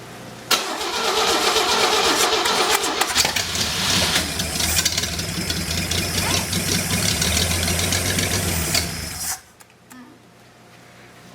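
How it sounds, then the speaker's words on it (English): A small motor in a boosted challenge build cranks and catches, then runs at a loud, steady, slightly rough idle for about nine seconds before cutting off abruptly, leaving near silence. "Maybe this time we'll just let it idle. That motor's supposed to catch on all this."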